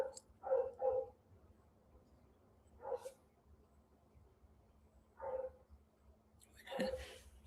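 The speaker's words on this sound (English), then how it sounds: "My dog is making too much noise." A dog indoors gives a few short, sharp barks in separate bursts: a quick double bark, then single barks, and a last louder one, close by against a quiet room hum.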